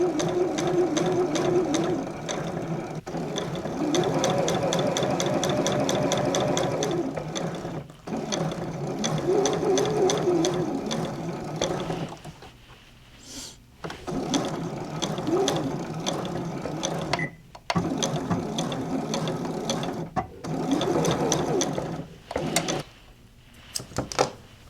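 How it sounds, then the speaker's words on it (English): A sewing machine stitches slippery fabric slowly, giving a steady fast mechanical clatter in long runs broken by short pauses, close and fairly quiet. "I don't know how I did with sewing, but I took it really slow."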